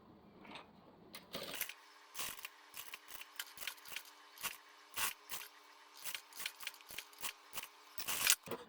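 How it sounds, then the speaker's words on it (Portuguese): Sewing scissors snip through fabric lining for a half-moon zippered toiletry bag, a quiet, close series of about a dozen crisp cuts in an even rhythm. "Eu corto o forro um pouquinho maior"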